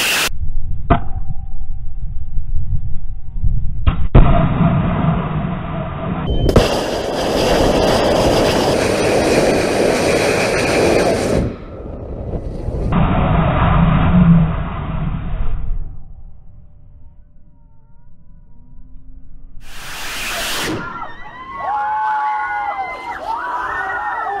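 A Berkeley STAR liquid bipropellant rocket motor fires on a test stand and goes unstable: loud, harsh roaring bursts, one long and a second shorter, broken by quieter stretches. A sharp tone follows near the end.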